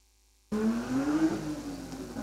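A 1999 Hyundai XL race car at a hillclimb event cuts in suddenly and accelerates away, its engine note rising steadily as it climbs the hill, loud and close with no voices.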